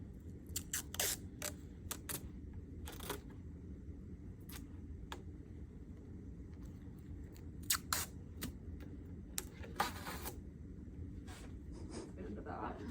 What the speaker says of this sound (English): Now I'm gonna get my tape ready.